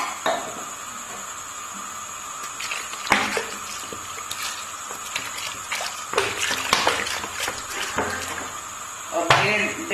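Water splashes and pours into a pressure cooker holding cleaned trotters for paye, with metallic clinks from the pot and utensils, close and fairly quiet.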